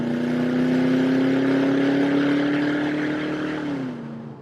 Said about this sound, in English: This particular one, it is running an aftermarket exhaust system, but it's not obnoxious,